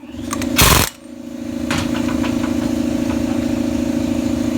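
A running air compressor chugs loudly and steadily in a small engine workshop, a rhythmic mechanical drone that continues throughout after a brief burst of noise near the start.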